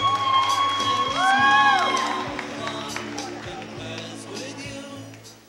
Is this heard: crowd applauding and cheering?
yes